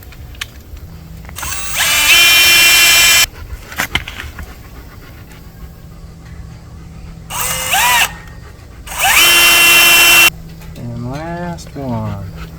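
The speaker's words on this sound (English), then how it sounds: "I'm going to continue to pre-drill because I think it really helps with those screws" A power drill pre-drilling screw holes for a backyard pool fence whirs in several short bursts, winding up and down between pauses, with some quiet handling noises in the gaps.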